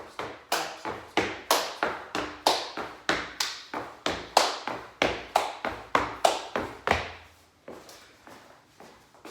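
Body percussion of hand claps and footsteps: about twenty crisp, evenly spaced hits in a steady rhythm, close and fairly loud, then a few softer, sparser taps at the end.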